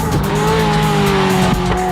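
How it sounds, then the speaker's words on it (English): A Ferrari 355 F1 with F1 Matic gearbox and 380 horsepower races around Fuji Speedway, its engine a loud steady high-pitched wail held close by, with tire squeal mixed in. "The Ferrari 355 F1."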